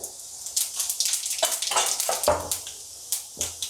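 Cumin seeds crackle and spit in hot oil for South Indian sambar, a busy run of sharp pops and sizzles close by, with no talking.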